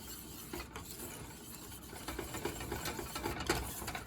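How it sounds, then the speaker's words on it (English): Broccoli and cheddar cheese-sauce stuffing for chicken breast being stirred together in a bowl, a continuous close scraping and squelching with soft rhythmic rubs, no talking. "We're going to mix it all together."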